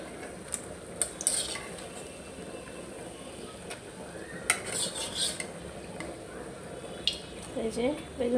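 Fried eggplant fritters (beguni) are lifted out of a pan: metal utensils clink and scrape against the pan over a low, steady frying hiss, with a few louder knocks, close by.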